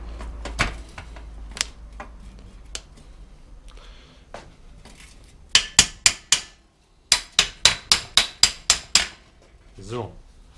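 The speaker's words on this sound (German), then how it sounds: "Also wenn man hier gegenschlägt, wenn man so einen Hammer hat, vorausgesetzt, dann kann man hier gegenschlagen" Hammer striking a bicycle crank axle to drive off the sprocket, scattered light taps followed by two quick bursts of sharp metallic blows, three then eight in a steady rhythm, loud and close in a quiet workshop.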